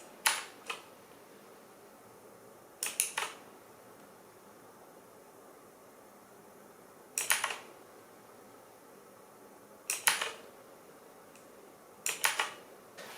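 Key presses on an Aukey KM-G12 mechanical RGB keyboard: a few brief, sharp clicks, some single and some in quick pairs or triplets, separated by long quiet gaps against low background hiss.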